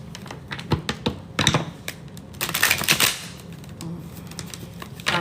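Crisp, rapid clicks and riffling bursts of tarot cards being shuffled, loudest in a flurry near the middle, close up with no talking.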